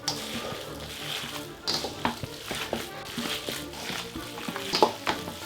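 Ground meat is worked by hand with pecorino and olive oil for meatballs, making wet squelching, pressing and turning noises in irregular bursts close by, with no voices.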